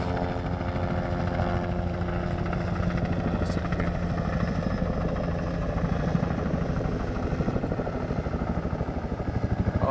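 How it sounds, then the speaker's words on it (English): A helicopter drones steadily nearby, its rotor chop pulsing loud and continuous throughout with a rough engine roar. "The helicopter's killing me."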